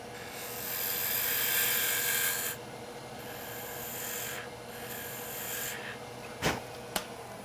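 A spindle detail gouge cuts wood spinning on a lathe while shaping a mortar and pestle, a steady hissing scrape that rises and falls in long passes, ending with a couple of sharp knocks, moderately close.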